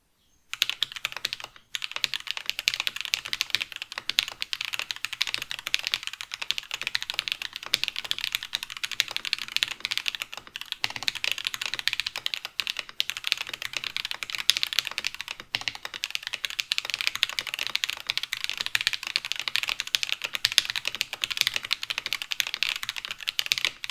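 Steady typing on a Monstargear XO K80 polycarbonate keyboard with its top case gaskets removed, a dense, continuous run of close keystrokes with no one talking.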